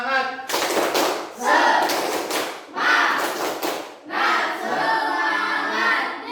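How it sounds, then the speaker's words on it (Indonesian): A classroom of schoolchildren performing a rhythmic clapping chant together, loud bursts of group claps and shouted voices in several pulses with short pauses between them. "kita akan melaksanakan tepuk. Nah, tepuk semangat."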